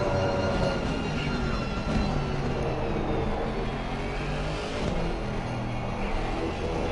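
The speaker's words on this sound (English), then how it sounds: "Engine sounds still massive." Racing car engine in a PS4 video game, a steady loud drone with broadband road and tire noise running continuously, no clear revving peaks.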